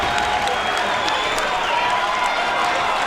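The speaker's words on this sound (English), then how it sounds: "This crowd is going nuts." A UFC fight crowd roars and cheers continuously, a dense, loud wall of arena noise with scattered applause filling the whole stretch.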